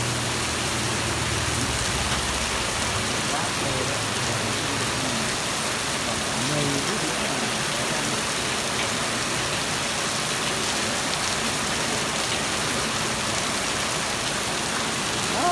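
Hail and rain pour down at the gate 11 roundabout amid light street flooding, a dense continuous hiss of falling water that stays steady from start to finish.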